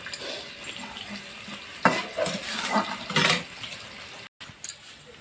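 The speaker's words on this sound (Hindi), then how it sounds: "मसाला डाल दिए हैं इसमें और इसको पूरा भूनेंगे।" Onion and spices frying in a pan for a potato and cauliflower curry, with bursts of stirring and utensil scrapes against a steady background hiss, a brief dropout near the end.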